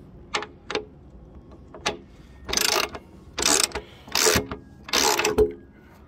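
A hand ratchet tightens a nut while a Yardistry 12' x 16' gazebo is built, giving a few sharp clicks followed by several loud, rasping bursts of ratcheting strokes close by, with no talking.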